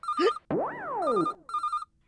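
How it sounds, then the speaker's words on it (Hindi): Electronic telephone ring in a busy television comedy scene, loud and close: a short chirp, then a rising and falling sweep, then another run of warbling tones, all within about two seconds, with no talk over it. "लीजिए नट्टू काका, आपको याद करने वाले का फोन आ गया।"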